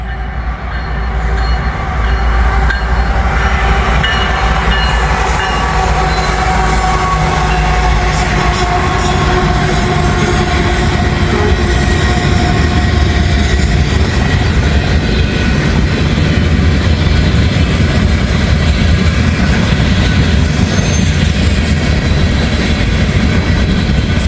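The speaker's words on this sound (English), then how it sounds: "The gates go down, so I guess I'm getting a train." A train rolls through a level crossing with the gates lowered, its steady rumble and rail noise loud and close for the whole stretch, with faint wheel squeal riding over the clatter of the cars.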